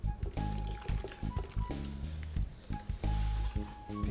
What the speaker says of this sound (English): So I just gave it a quick rinse once again to open up the tea leaves.